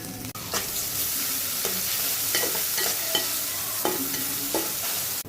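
Onions frying in a pan on a home stove, a soft continuous sizzle broken by several sharp scraping stirs of a spatula against the pan, with no talking.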